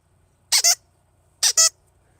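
A dog's squeaky toy squeaks in two quick double bursts, each a pair of sharp, bright squeaks about a second apart, close and clear over a quiet room with no voices.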